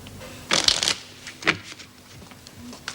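Playing cards shuffled by hand during a card game, a brisk riffle burst of crisp papery flutters followed by a shorter second riffle, close and fairly loud against a quiet room.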